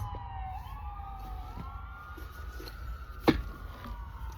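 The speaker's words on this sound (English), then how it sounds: "There's a bunch of sirens" Distant emergency vehicle sirens wail in rising and falling tones over a low rumble of traffic, with a brief sharp knock near the end.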